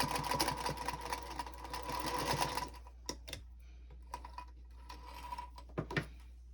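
A sewing machine runs steadily for about two and a half seconds while stitching a Christmas napkin, then falls silent except for scattered clicks and handling taps, quiet and close.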